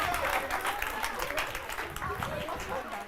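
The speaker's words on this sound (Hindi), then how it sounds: "प्लीज अब देखो तालियां बजनी चाहिए खुलकर।" A studio audience at a televised Hindi news interview applauds with dense, steady clapping that holds for the full few seconds, with voices mixed into the crowd noise.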